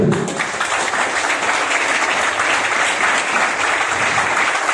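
An audience at a training event in La Rochelle applauds loudly and steadily throughout, a dense, close wash of clapping with no pauses.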